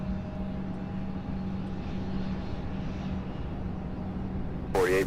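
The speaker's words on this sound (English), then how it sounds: "you see that Mesa Airlines CRJ 700 taxiing. That one will be going to actually that one's taken off." A Mesa Airlines CRJ 700 regional jet takes off from Louisville's SDF airport as a steady, moderate engine roar with a faint hum, and a brief voice cuts in at the very end.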